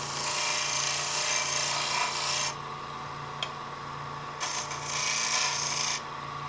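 A skew chisel cuts wood on a woodturning lathe: a loud, rough rasping scrape runs for a couple of seconds, breaks off, then returns in shorter bursts over the steady hum of the spinning lathe.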